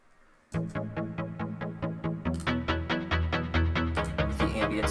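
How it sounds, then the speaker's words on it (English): Layered synth plucks in FL Studio pulse in a steady rapid rhythm, joined after a moment by deeper bass and brighter layers as the pattern builds, loud with no talk. "I layered the plucks."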